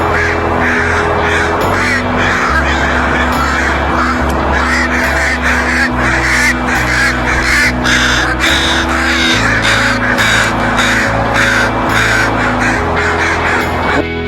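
Crows giving harsh, repeated scolding caws, loud and near, overlapping throughout alongside a steady low droning tone.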